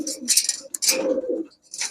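Giribaz high-flyer pigeons at a sale coo close by in a few short, throaty bursts with brief gaps between them, mixed with sharp rustling noises.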